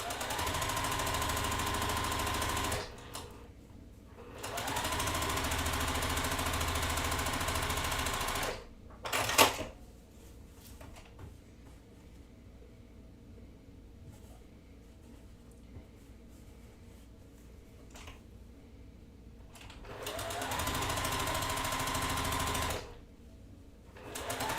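A sewing machine stitches through layered quilt blocks in three loud, steady runs, each a few seconds long, separated by quieter stretches of faint handling and shuffling noise.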